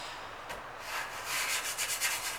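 Sandpaper rubs over sanding sealer on the fabric-topped body of a guitar, a soft close-up scratchy hiss in short back-and-forth strokes that grow a little louder and quicken toward the end.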